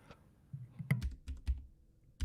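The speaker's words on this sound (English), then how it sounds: "I'm sorry, Hamp, I'm typing." Typing on a computer keyboard during a gaming chat stream, a quick irregular run of close, crisp key clicks with brief pauses between bursts.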